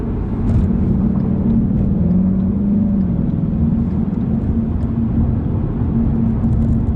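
A tuned 2016 Ford Mustang GT with a Lund tune and PEDALMAX throttle controller drones steadily from inside the cabin, its low engine rumble easing slightly with a faint pitch slide as the gas is released.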